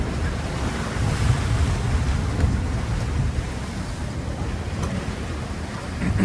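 Big ocean waves surge and wash against a heeled sailing yacht on the open sea between Minerva Reef and New Zealand, a continuous roaring swash mixed with strong wind buffeting the microphone, with no voices.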